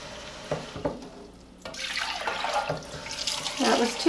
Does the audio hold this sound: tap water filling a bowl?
yes